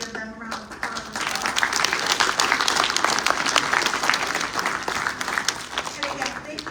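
Applause from the audience at a fall graduation ceremony, sustained clapping from a large crowd that starts within a second and holds steady and loud for several seconds, close and dense.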